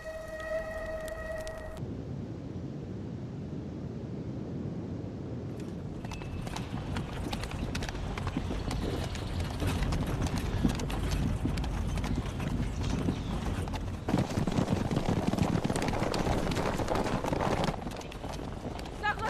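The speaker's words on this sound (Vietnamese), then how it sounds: "Này Tam Hiệp, sao tôi lại nghe thấy tiếng vó ngựa vậy?" Horses gallop in a period action drama, with rapid clip-clopping hoofbeats that grow louder and closer and continue under voices and background score.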